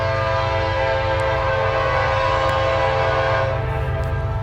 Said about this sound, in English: we were met with an NS Intermodal 29G, which gave everyone some great horn action and featured a crazy lash-up of 5 BNSF locomotives